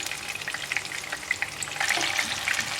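Fish ball sticks fry in oil, a loud, close, unbroken sizzle with fine spattering crackles that grows slightly busier toward the end, and no speech.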